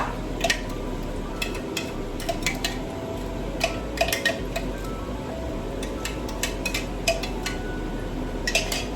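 Shallots, garlic and chili sautéing in hot oil in a pan: a soft steady sizzle runs underneath while a utensil clinks and scrapes against the pan in irregular taps, fairly close and with no voices.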